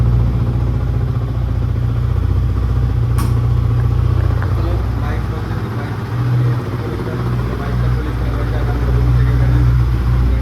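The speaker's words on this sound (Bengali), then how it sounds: "তো চলো বাইকটা করি কুল স্টার্ট" A Yamaha R15 motorcycle engine runs steadily at a low, rumbling idle after a cold start, loud and close, with a brief clatter partway through.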